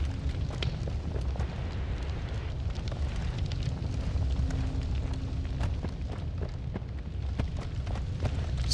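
Explosions and fire in the video game Noita: a continuous loud crackling, rumbling roar of blasts and flames with scattered sharp pops throughout, dense and unbroken.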